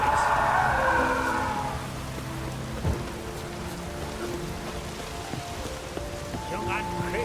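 Steady rain in The Witcher 3: Wild Hunt pours down, a dense hiss of drops that is heaviest at first and then settles, with faint thuds and tones underneath.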